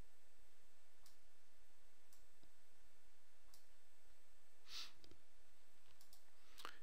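Computer mouse clicks during 3D lighting work on a desktop, a handful of sharp, isolated clicks spaced irregularly over a quiet electrical hum, close and fairly faint.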